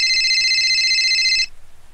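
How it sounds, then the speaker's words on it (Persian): A phone rings with a bright electronic ringtone, a steady warbling tone for about one and a half seconds before it cuts off abruptly, loud and close. "تلفن زنگ خورد."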